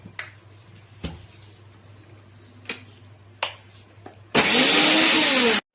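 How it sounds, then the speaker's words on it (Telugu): Mixer grinder whirring loudly for about a second and a half while grinding cucumber chutney with coriander, after several sharp knocks and clicks of the jar being handled over a low steady hum. "ఇది వేసేసుకొని మిక్సీ పట్టుకుందాం."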